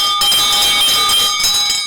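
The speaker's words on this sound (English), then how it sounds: "Ring the bell." A bell rings loud and steady, a sustained metallic clang with bright ringing overtones that holds for about two seconds, with no voices over it.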